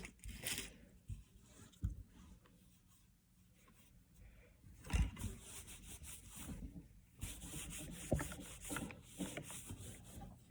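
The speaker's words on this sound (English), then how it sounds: "the POR 15 it's not hard enough that you can't sand it" Sanding of POR 15 filler on a repaired wood steering wheel from a 1968 GTO, with soft, close rubbing and scraping strokes that come in uneven bursts, quiet stretches between them, and no talking.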